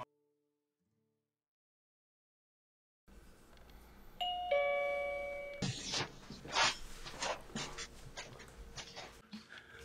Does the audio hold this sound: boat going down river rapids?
no